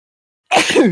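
A single sudden, loud sneeze bursting out of silence, close to the microphone.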